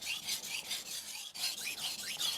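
A kitchen knife is sharpened on a fine vitrified diamond or ceramic whetstone of about 800 to 1000 grit. It gives a steady, chalky rasp in repeated back-and-forth strokes, close and fairly loud, with no voice.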